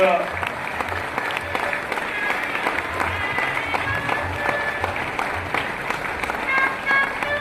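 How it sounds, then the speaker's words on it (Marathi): An audience at a public felicitation event in Pune claps steadily for several seconds, with a crowd murmur and voices mixed in under the applause. "सगळ्यांनी टाळ्या वाजवून आपल्या अण्णांच"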